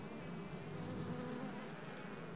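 Wasps, bees and flies feeding at ivy flowers make a steady, dense insect hum, a continuous faint buzzing with no breaks.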